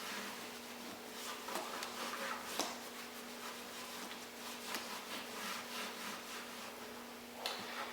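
Clear wax being rubbed and blended into a wood surface, heard as a steady soft scrubbing and brushing with faint strokes and light taps against a low electrical hum, no talking.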